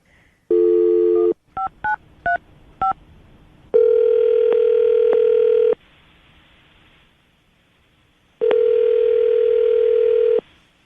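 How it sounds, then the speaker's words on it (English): A landline telephone being dialed: a short tone, a quick run of four beeping keypad digits, then two long steady dial-tone bursts separated by near silence, all loud and close with no voices. "I'm about to dial the phone number right now, get him on the phone"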